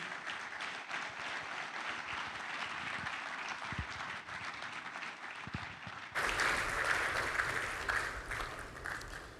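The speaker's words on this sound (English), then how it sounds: "Please welcome to the platform, with a warm applause, Mr. Kola Oyeneyin." Sustained applause from a large conference audience welcoming a speaker to the stage, steady clapping that swells louder partway through and continues to the end.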